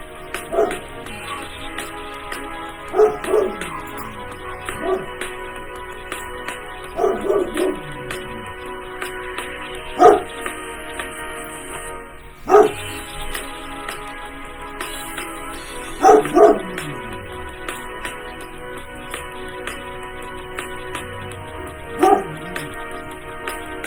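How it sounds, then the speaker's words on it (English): Dogs bark sporadically over a long stretch, with single and paired barks spaced several seconds apart. They sound moderately distant, with quiet background between barks and no talking. "I don't think my dogs know what they're barking at half the time."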